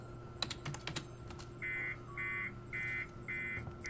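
Typing on a computer console in the Alien Isolation video game: a quick run of clacking keystrokes, then a series of regular electronic beeps repeating in even pulses.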